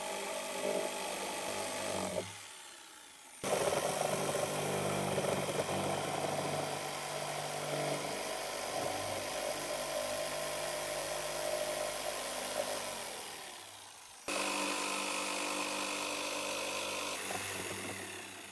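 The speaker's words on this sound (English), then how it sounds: "We start the holes with a circular saw and then trace with the jigsaw." Power saws cut holes in a vinyl fence rail on a job site, giving a harsh, buzzing whine that runs in two long passes separated by a short pause.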